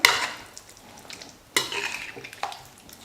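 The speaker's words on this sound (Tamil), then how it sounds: "நல்லா கலந்து விட்டுடலாம்." A spoon stirs thick masala paste of ground onion and water in a cooking pan for kuzhambu, with a few scraping strokes over a faint sizzle. It is close, fairly quiet and has no talking.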